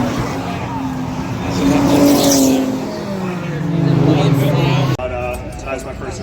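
Nissan Altima race cars circle a racetrack, engines roaring and shifting pitch as they pass near and loud, while a person talks over the noise.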